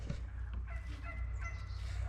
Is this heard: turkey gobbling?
yes